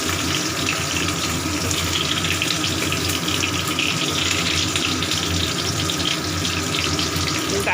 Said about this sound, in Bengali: ফোড়ন ভাজা হয়ে গেছে এবারে আলুগুলো দিচ্ছি